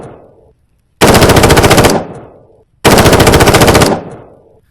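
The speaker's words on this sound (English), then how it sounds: "I'll just shoot this ball since I've run out of test dummies again" Two loud bursts of automatic gunfire in a VR horror game, each a rapid stream of shots lasting about a second, aimed at a ball, with short echoing tails and silence between.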